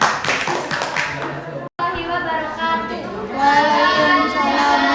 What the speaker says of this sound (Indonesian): Mungkin untuk kelompok 5 berikan tepuk tangan.